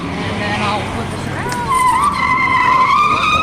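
A Jaguar E-Pace braking hard through a lane change simulation at an auto show, tires squealing in a rising, wavering screech over engine noise, with crowd chatter in the background.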